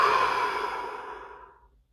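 A single deep breath exhaled close up, a long soft sigh that fades to silence over about two seconds.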